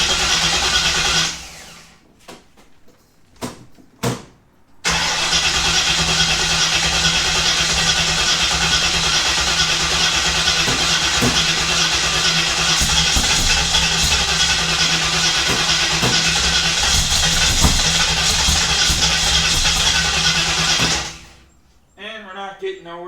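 A Ford Falcon engine is cranked repeatedly without catching: a couple of short starter bursts, then a long continuous grinding crank of about sixteen seconds that cuts off abruptly.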